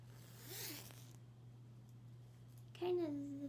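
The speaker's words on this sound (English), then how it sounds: "Kind of zips up like the pink one, I think. Up and down." A hoodie zipper runs quickly once near the start, then silence, followed by a voice speaking over a steady low hum.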